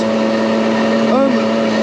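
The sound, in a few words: Puch Maxi 50cc moped engine at top speed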